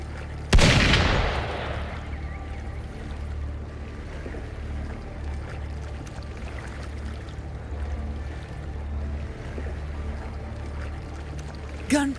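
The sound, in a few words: gunfire in a video game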